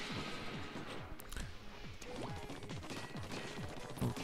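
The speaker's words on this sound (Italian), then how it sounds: "Questi qui possono anche schiantarsi al suolo." Enemies crash to the ground in Splatoon's story-mode final battle, producing a rapid run of smashing thuds and whacks that repeat unevenly over a busy game background at moderate volume.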